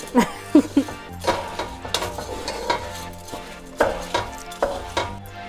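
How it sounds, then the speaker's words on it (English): Rice stirred through ham oil in a frying pan, with a spoon scraping and knocking against the pan in irregular close strokes over a light sizzle. "we're just gonna mix our rice around to get it completely coated in all of that ham oil"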